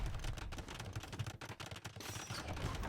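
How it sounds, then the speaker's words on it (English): Cannons firing at a trap in an Age of Empires match, a dense run of rapid booming shots and crackling impacts layered over battle noise, loud and continuous. "cannons shooting for the trap"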